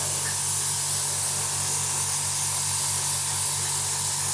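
A steady, close hiss of an airbrush lays a light coat of paint on a Revell 1/72 Transall model aircraft. The spray runs unbroken and loud.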